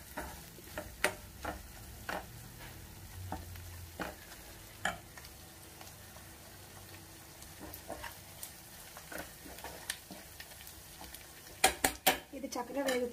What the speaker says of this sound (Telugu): దీన్ని మనం కొంచెం వాసన పోయే వరకు చక్కగా వేయించి